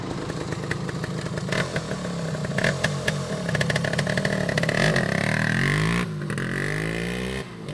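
1975 Yamaha DT400B two-stroke motorcycle accelerating up a road, a buzzy ringing exhaust rising in pitch through several gear changes, loud and close, then dropping away near the end.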